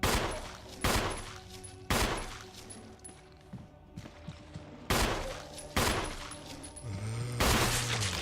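Loud single gunshots in Resident Evil on PS2, about five sharp blasts spaced roughly a second apart, each echoing briefly over quiet in-game ambience, ending with a low droning tone.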